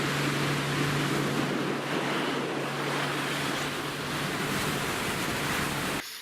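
Waves rolling onto a sandy lake beach, a steady broad wash of water and surf close by, with wind rushing over the microphone and a low engine-like hum underneath.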